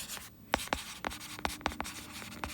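Pen strokes on paper while an accounting entry for contract cost is written, a string of short scratchy taps and rubs in uneven rhythm, close and clear with no talking.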